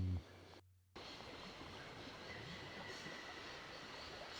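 Steady rolling rumble of a moving train in the adventure game Syberia, broadband and continuous after a brief dip near the start, with a faint high tone running through it.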